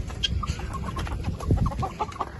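Roosters on a farm cluck in a quick series of short, close bursts against a steady low background, taken indoors during rain.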